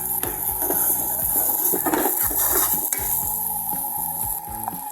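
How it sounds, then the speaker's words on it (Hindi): Dal mash is fried and stirred in a pan, giving a loud continuous sizzle with repeated scraping and clinking of a utensil against the metal, alone with no talk. "अच्छी तरह भून लेना है।"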